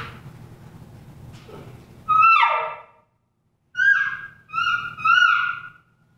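An elk call tube mimics a mature cow elk with her calf: one long descending mew, then after a pause three shorter nasal calls in quick succession, loud and close with no talking.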